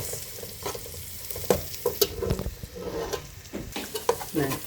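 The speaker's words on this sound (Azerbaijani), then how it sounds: "Biraz soğanı, sarıkükü hər ikisini bir yerdə qovururam" Onion and turmeric frying together in a pan crackle and sizzle up close, broken by repeated scraping and stirring strokes of a utensil against the pan.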